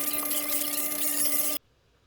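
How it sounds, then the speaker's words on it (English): A small screw is backed out of the cover of an Okuma CW 303D fishing reel with a power driver, producing a thin, steady high-pitched whine up close that cuts off abruptly. "Get these screws out."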